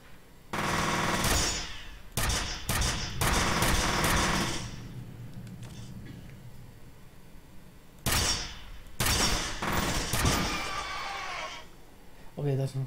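A grenade-firing weapon in F.E.A.R. lets off loud, rapid mechanical bursts in several separate volleys, clattering close by, with voices talking between the shots.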